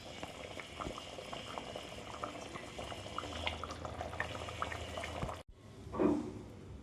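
A pot of bontha chepala pulusu, a fish curry, simmers at a steady boil with a dense bubbling hiss. It cuts out abruptly near the end, followed by a brief louder splash.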